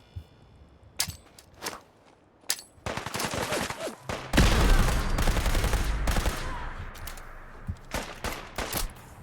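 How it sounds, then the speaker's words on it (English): A legendary laser rifle with a bleed effect firing in a video game: scattered single shots early, then a dense, loud sustained burst of rapid fire trailing into intermittent shots. "This is a legendary laser rifle, by the way, that has a bleed effect."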